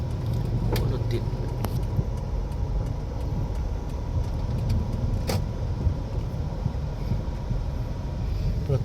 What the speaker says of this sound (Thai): โอ้รถติด